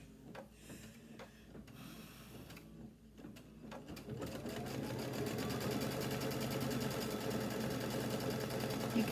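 An embroidery machine stitches folded fabric on an heirloom quilt, starting after a few seconds of soft handling noises and settling into a steady, rapid mechanical whirring and tapping that continues to the end.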